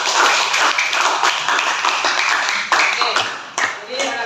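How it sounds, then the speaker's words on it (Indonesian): A classroom of students applauding together, a dense, steady wash of clapping that holds for several seconds, with a few sharper claps standing out near the end. "Beri aplaus dulu."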